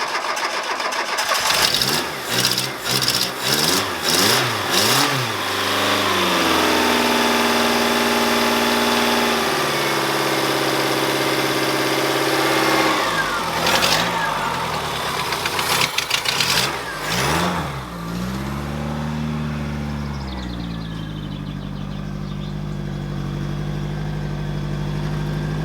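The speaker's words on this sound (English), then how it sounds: "Rev it." A VW Polo MK2 engine with a newly installed exhaust, revved repeatedly: several sharp throttle blips rising and falling in pitch, then a sustained high rev and settling idle, loud and close with no talk.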